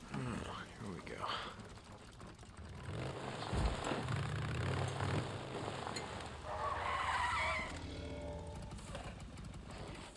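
A motorcycle in the Days Gone video game brakes hard and skids, a rough scraping tire squeal over engine noise, rising and falling over several seconds with a voice talking over it.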